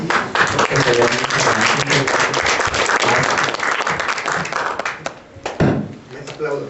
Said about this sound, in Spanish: mejor démosle un aplauso